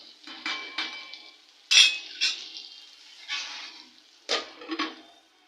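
A spatula scrapes and clinks against a pan as onions cook with chillies for cheese potato poha, giving a few sharp metallic knocks separated by soft, quiet stirring.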